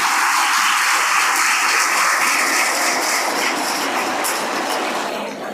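A crowd applauds at a Marathi speech marking the 1971 India–Pakistan war Victory Day, with sustained loud, dense clapping that fades slightly at the end.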